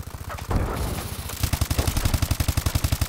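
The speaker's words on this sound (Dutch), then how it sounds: "Jullie horen niks, alleen mijn wapen." Rapid automatic weapon fire from Call of Duty: Advanced Warfare, loud and close, in sharp repeated bursts that settle into a steady rattling cadence of shots.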